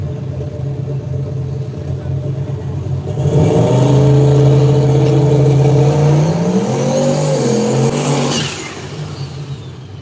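A Chevy El Camino and a Chevy Camaro at a no-prep drag race. One engine roars in loudly after about three seconds, its revs climbing and shifting, then it drops away near the end.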